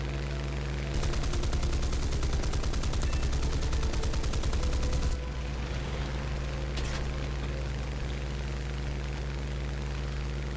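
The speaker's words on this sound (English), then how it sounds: "so I do take some shots here from him" A rear gunner on an enemy aircraft fires a fast, steady burst of machine gun rounds for about four seconds in a Tier 3 British arcade battle in War Thunder. A constant aircraft engine drone runs underneath, and nobody talks.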